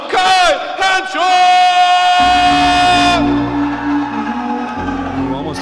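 A crowd at a Resurrection MMA event in Mansfield cheers and yells for fighter Kai Hanshaw as he enters from the blue corner, starting with a sustained loud whoop over an announcer's voice, then settling into a continuous roar.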